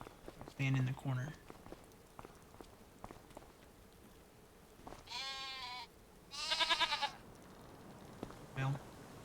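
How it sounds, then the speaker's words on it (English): Several sheep in the video game Farming Simulator 25 bleat in short bursts, a couple of brief calls early and two longer wavering bleats later, close and fairly clear against quiet ambience. "We can sit here and watch the sheep."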